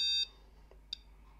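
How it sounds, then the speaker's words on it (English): A home alarm system arming: one loud, sustained electronic beep, then a single short chirp about a second later, clear and close with no talking. "the alarm has been armed"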